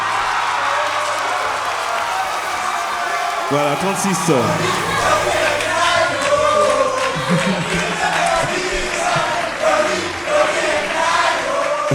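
A talent-show audience at a youth music contest in Gabon applauds and cheers loudly and continuously, while a presenter speaks over the crowd.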